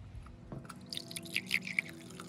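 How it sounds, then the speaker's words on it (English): White vinegar trickling from a container into a cup, a quiet splashing and dripping pour that runs for a couple of seconds with faint handling noises, close by and alone. "First, you're going to be pouring your white vinegar into your cup."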